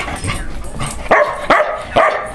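A dog whimpers and gives short, high yelping barks. Three sharp cries stand out near the end over a steady background of whining.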